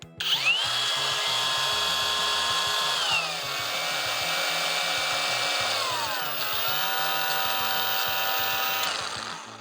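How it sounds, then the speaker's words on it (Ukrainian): A Procraft AG125B cordless angle grinder whines loudly and steadily, its high motor pitch dropping twice as the speed changes, running nonstop for several seconds. "Давайте послухаємо, як працює ця болгарка під'єднуємо акумулятор та вмикаємо"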